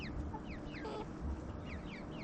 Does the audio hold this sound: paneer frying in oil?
no